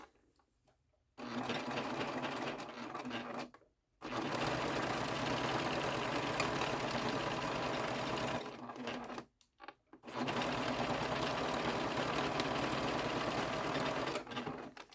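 A sewing machine stitches the gusset of a Dewdrop wristlet in two long, steady close-up runs, separated by brief pauses, with no talking.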